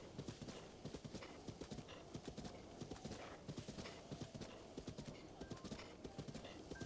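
Steady clip-clop of horse hooves at a brisk walk or trot in The Legend of Zelda: Breath of the Wild, fairly faint and rhythmic, with no talking over it.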